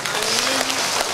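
A large audience applauds a singer at her 20th-anniversary singing concert, a thick continuous roar of clapping, with a faint sustained tone running underneath.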